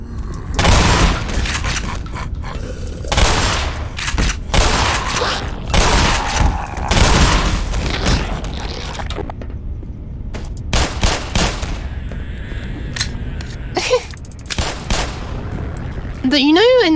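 Shotgun blasts in the shooter Black Mesa boom out loud and close in a rapid, chaotic string, with someone talking between and over the shots.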